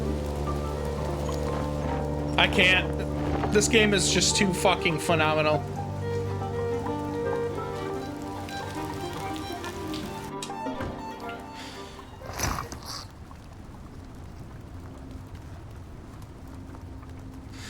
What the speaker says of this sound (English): You could literally hear the rain hitting the rooftops.